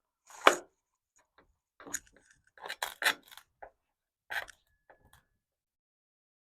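A stuffed Cornish hen cooked in a cast iron Dutch oven being split down the middle, heard as a handful of sharp, separate cracking and crunching snaps with quiet gaps between them, close by.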